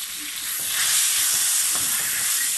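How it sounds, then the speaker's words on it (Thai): Pork fat crisps in hot oil for Thai fried rice with pork cracklings, giving a steady, close, bright sizzling hiss that swells slightly and holds without any voice. "ตอนนี้เจียวมันหมูให้กรอบๆนะคะ"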